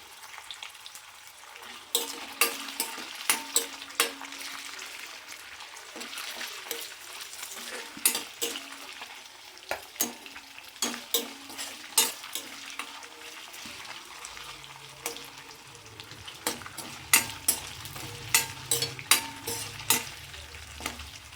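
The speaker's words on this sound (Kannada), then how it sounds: "ಸ್ವಲ್ಪ ಫ್ರೈ ಮಾಡಿಕೊಂಡು ಎತ್ತಿಟ್ಕೋಬೇಕು" Food fries in a pan for matar paneer with fresh pigeon peas: a continuous sizzle runs throughout, punctuated by frequent sharp clinks and scrapes of a spoon against the pan, and no voices.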